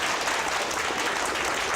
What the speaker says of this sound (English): A round of applause for Katie.